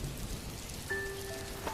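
Steady rain pours down in a dark, eerie night scene, a dense continuous hiss with no voices, while a thin sustained tone enters partway through beneath the downpour.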